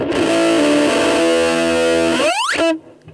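A Boss MG-10 amplifier drives heavy distortion from a humbucker-equipped electric guitar through two 5-inch speakers: a loud sustained chord rings for over two seconds, then slides upward in pitch and cuts off abruptly into near silence.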